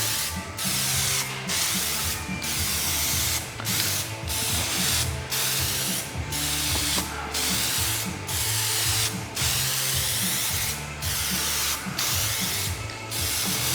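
An aerosol can sprays Plastidip onto a Porsche Cayman spoiler in a steady loud hiss, broken by brief regular pauses as the nozzle is released and pressed again, close to the microphone.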